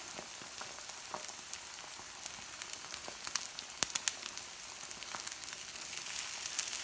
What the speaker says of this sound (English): I'm going to add my egg. And I'm just going to make the egg about the size of the skillet.